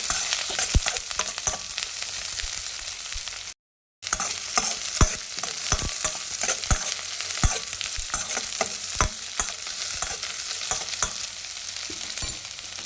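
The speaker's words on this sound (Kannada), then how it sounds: "ಈರುಳ್ಳಿ ಹಾಕಿ ಈರುಳ್ಳಿನೂ ಕೂಡ ಒಂದು ಸ್ವಲ್ಪ ಫ್ರೈ ಮಾಡ್ಕೊಳ್ಳಿ" Onions frying in a pan for chili rasam, a constant close crackle with many quick stirring scrapes and clicks across about thirteen seconds, one brief gap of silence, no talk.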